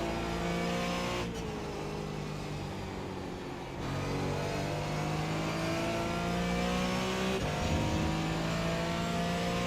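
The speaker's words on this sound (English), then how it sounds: "Faster car coming up quick." A race car in the iRacing simulator runs at speed during an endurance race while a faster car closes in, with engine pitch rising and falling through gear shifts and a steady loud drone, no voices.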